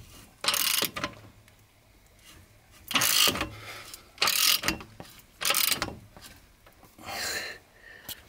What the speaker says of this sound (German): Schelle noch festspannen.